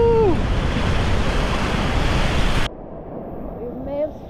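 Ocean waves at an island beach on Koh Rong, Cambodia, a loud broad wash of surf with wind buffeting the microphone that abruptly drops to quieter water, with a voice briefly heard.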